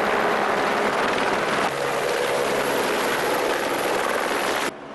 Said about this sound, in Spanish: Apenas uno levanta el vuelo, llega otro helicóptero para reponer su carga.